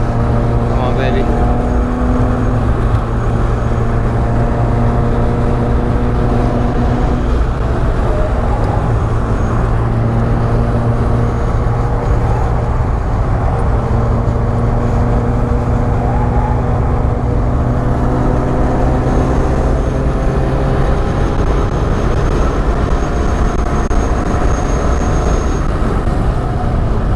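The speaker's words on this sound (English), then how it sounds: "Definitely got her a little sideways around that corner." An old, worn-out car is driven sideways around a corner in a drift. Its engine drones loud and close throughout, a steady, rough roar with muffled voices underneath.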